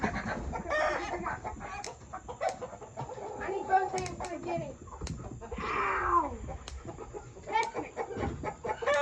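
Escaped chickens and guinea fowl on a farm clucking and squawking while being caught, with agitated bird calls and rustling close by and people talking over them.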